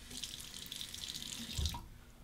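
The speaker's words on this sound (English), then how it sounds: "temper the razor under hot or cold water, your choice" Tap water runs steadily into a sink to rinse a Muhle R89 safety razor, a close hiss that cuts off near the end with a brief clunk.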